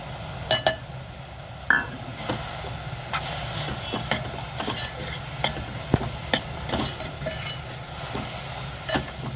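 Cabbage sabzi stirred in a hot pan, with a continuous soft sizzle broken by sharp, irregular clinks and scrapes of the spoon against the metal pan, close by and with no talking.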